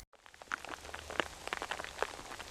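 Driving rain falls in the Andalusian sierra: a faint, steady patter of drops striking surfaces, with a few sharper close hits scattered through.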